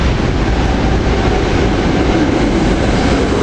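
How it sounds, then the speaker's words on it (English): A Doylestown commuter train, number 588, pulls into a station on the rail line with a loud, steady rumble and roar of wheels on track, close by and continuous. "Here we have Doylestown train 588 coming in"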